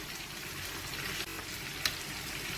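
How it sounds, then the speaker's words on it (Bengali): Onion and tomato fry in a pan for a Bengali mutton liver kosha, giving a steady, fairly soft sizzle with a couple of faint stirring clicks and no voices. "সেইভাবে আমি পেঁয়াজ টমেটোটা ভেজে নিচ্ছি।"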